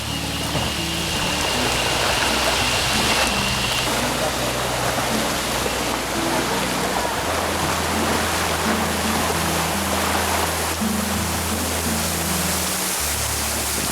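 River water of the Mae Klong during a rubber raft trip, heard as a loud, continuous rushing roar with a low engine-like hum running beneath it.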